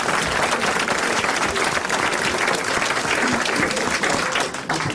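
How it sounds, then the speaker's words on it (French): Sustained applause from a TV studio audience on a 1989 French game show, dense and steady clapping that fills the space evenly before tapering slightly at the very end. "on a applaudi"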